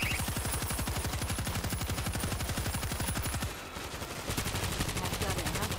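Rapid automatic gunfire in the zombie shooter game World War Z: dense, evenly spaced shots in a long loud burst, a short pause, then firing starts again.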